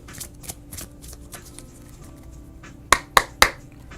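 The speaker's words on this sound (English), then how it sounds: "So shuffle these cards up really good." Tarot cards are shuffled close by, soft riffling and sliding at first, then three sharp snapping riffles near the end, with no voices.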